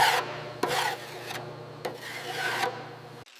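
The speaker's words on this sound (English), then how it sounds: "Body filler is spread smoothly over dents. A metal scraper glides evenly." A metal scraper spreads body filler over dents on a 1987 Buick Grand National GNX body, making steady rasping strokes with sharp clicks between passes, close and alone.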